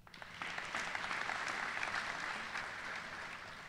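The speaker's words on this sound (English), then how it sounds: "thank you very much for that applause and that encouragement" Distant, even applause from a large audience at a university opening day address, sustained and fairly faint throughout.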